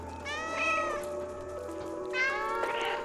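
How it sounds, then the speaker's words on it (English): A cat meows twice in a slightly drawn-out, rising then falling call, close and clear over a low steady background hum, with no talking. "Where's the other cat?"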